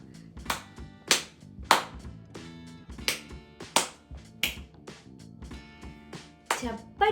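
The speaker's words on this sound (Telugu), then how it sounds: "క్లాప్స్ చప్పట్లు కొడతావా" A young child claps hands in a series of distinct, sharp claps at a loose, irregular pace, close to the microphone, while an adult speaks encouragingly between them.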